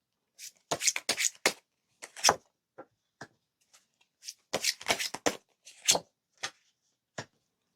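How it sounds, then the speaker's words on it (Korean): Tarot cards being shuffled and drawn: bursts of quick crisp riffling and slapping, close and clear, in two clustered groups separated by brief pauses, followed by single soft taps as cards are laid down. "카드로 한번 뽑아볼게요"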